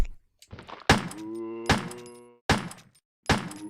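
Knife stabs against a zombie in the original PlayStation 1 Resident Evil: four sharp, heavy thunks about a second apart, some followed by a low, droning groan-like tone.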